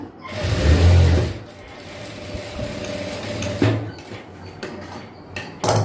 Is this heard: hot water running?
no